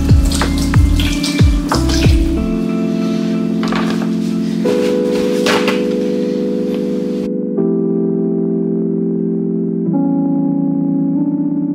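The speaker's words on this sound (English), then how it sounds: "we're gonna rinse this as you would with most of your things in some cold water" Cold tap water runs into a sink to rinse something at home, a steady splashing rush with shifting hollow tones as the flow changes, close and continuous with no talking.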